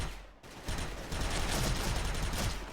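Suppressed M4A1 rifle fire in the SF shooter game: a dense, continuous burst of muffled rapid shots after a brief lull at the start, loud and sustained to the end.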